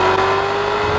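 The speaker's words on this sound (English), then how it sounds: "The engine note alone, the power and the sound is the reason to own this car." Maserati Quattroporte sedan engine sounding loud and steady up close, a sustained tonal drone running through the whole second with no talk.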